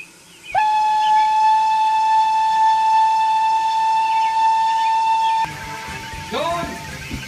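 A runaway steam train sounds its whistle, one long loud steady tone held for about five seconds, then cut off, followed by hissing steam and a voice shouting.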